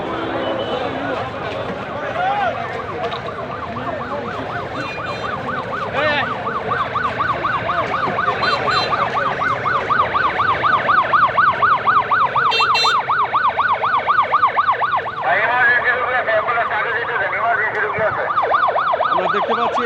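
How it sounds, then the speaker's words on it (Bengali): An ambulance siren wails on a road packed with crowds, its rising and falling tone growing louder as it passes close by, with traffic noise and people talking throughout. "আমরা দেখতে পাচ্ছি অ্যাম্বুলেন্স যাচ্ছে, এমার্জেন্সি রুগী আছে।"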